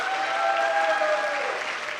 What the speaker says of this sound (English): Let's give a round of applause for the bride's parents.